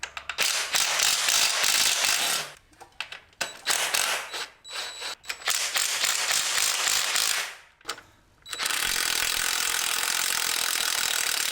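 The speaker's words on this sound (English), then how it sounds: "now I'm gonna start removing bolts and stuff. Gonna use this spanner nut tool" A spanner nut tool works loose bolts on a wrecked Honda CBR600RR motorcycle, with ratcheting and metallic mechanical clicks running nearly continuously in close, loud bursts broken by a few short pauses.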